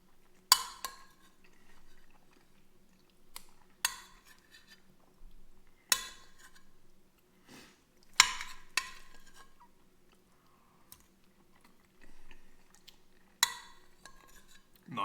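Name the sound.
spoon clinking on dish while eating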